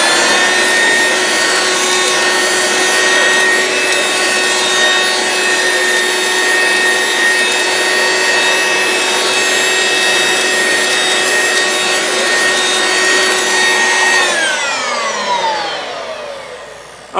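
A corded Dirt Devil handheld vacuum with a beater bar runs with a loud, steady whine and motor roar close by, then winds down near the end as it switches off.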